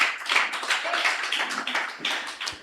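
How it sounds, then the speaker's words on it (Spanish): A church congregation claps and applauds to honor Jesus Christ during an evening Spanish-language service, a steady dense patter of many hands close by, with no speech over it. "Denle un aplauso al Señor Jesucristo."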